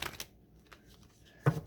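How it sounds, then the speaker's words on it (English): A deck of tarot cards is shuffled up close, a quick riffle at the start, a quiet pause, then a soft snap as the cards come together. "One more shuffle."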